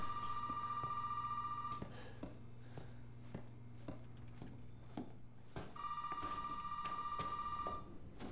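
Telephone ringing inside the Resident Evil 7 video game, two long electronic ring bursts separated by a pause of quieter footsteps and room noise, clear and fairly close.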